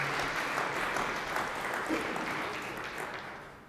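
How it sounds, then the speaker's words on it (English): A startup pitch audience applauds as the Dear Eyewear founder takes the stage, a broad sustained burst of clapping from many hands, fairly distant, that tapers off near the end. "give a huge round of applause for Dear Eyewear"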